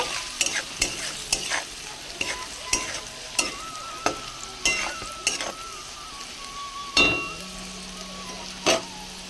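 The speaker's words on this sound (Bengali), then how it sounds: "এবার ভালো করে আমি কষিয়ে নেব" Onions fried with turmeric, chilli powder and salt are stirred with sharp, regular spatula scrapes against the pan, over a faint sizzle, with a louder scrape near the end.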